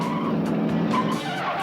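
A car pulling away fast with tires squealing and skidding, a loud, close screech lasting just over a second, with no voices.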